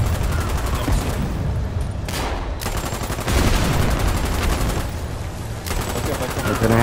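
Dense automatic gunfire rattles in the war video game Foxhole, rapid bursts broken by short pauses, loud and close, with players' voices talking under the shooting.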